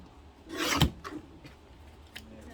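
Paper strips for a card being trimmed, a single close rasping slice lasting about half a second followed by a few faint scratches and taps.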